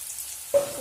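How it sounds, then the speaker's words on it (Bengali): Potatoes frying in hot oil, a sizzle that suddenly swells about halfway through and keeps a steady crackling hiss, close and moderately loud, with no talking. "আলুটাকে আমি লাল করে ভেজে নেব"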